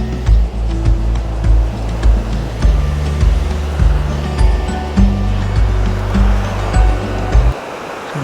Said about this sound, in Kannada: ಸೊ ನೀರಿನ ಹರಿವು ಜಾಸ್ತಿನೇ ಇದೆ ಇಲ್ಲಿ.